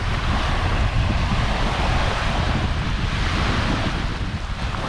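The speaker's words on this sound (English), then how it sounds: "How's that for a private beach?" Steady, loud ocean surf washing onto a beach in County Kerry, Ireland, a continuous broad roar with wind buffeting the microphone throughout and no distinct individual wave breaks.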